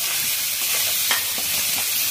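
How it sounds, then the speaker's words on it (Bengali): Fried potatoes going into a hot pan for a Bengali bhetki fish dish, with a steady bright sizzle of frying oil and a few stirring scrapes. "ভাজা আলুগুলো দিয়ে দিচ্ছি,"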